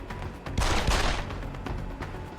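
Gunfire from a firefight in the video game Deus Ex: Human Revolution, a loud burst of several close shots in quick succession over a steady game soundscape.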